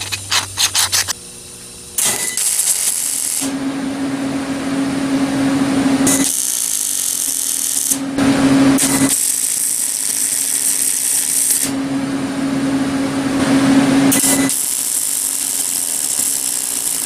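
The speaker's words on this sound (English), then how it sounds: "Let's clean that up a little bit with the grinder." An angle grinder cleaning up a drilled-out gear plug for a 750 watt BMX e-bike, several loud high whining bursts separated by short pauses, close up, with no talking.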